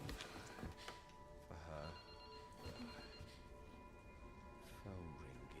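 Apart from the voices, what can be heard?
telephone ringing in the video game Resident Evil 9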